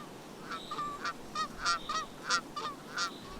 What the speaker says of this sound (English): Those Canada geese must be somewhere nearby